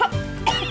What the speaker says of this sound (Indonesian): Ini dia batuk bocah idiot.